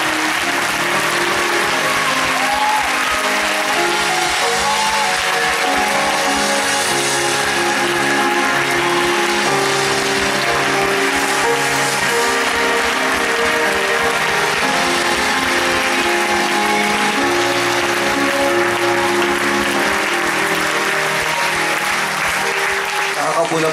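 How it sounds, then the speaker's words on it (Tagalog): Loud, sustained applause from a church congregation during a Sunday morning worship service, dense clapping filling the whole stretch with a crowd murmur and music underneath. "Ako, 10 segundo, malakas na palakpak sa Panginoon."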